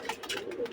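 A pigeon softly coos in a few short, gentle throaty notes, faint and close, at a pigeon-flying tournament in Jagadishpur.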